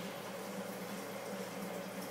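Water pouring down a one-inch overflow pipe in a 60-gallon acrylic aquarium, a steady close gurgling rush that holds constant throughout without any pauses.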